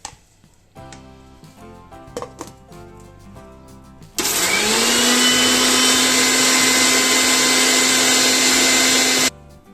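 After some quiet kitchen clatter, an electric chopper whirs to life at full speed and runs loudly and steadily for about five seconds while finely chopping cabbage, then cuts off.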